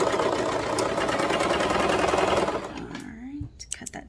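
A sewing machine runs steadily as it stitches a seam on a mock turtleneck tank top, a close continuous motor hum that stops after about two and a half seconds, followed by a few light clicks and rustles.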